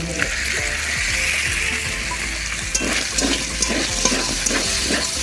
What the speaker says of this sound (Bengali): মাংস একটু একটু ভাজা আমার প্রায় হয়ে গেছে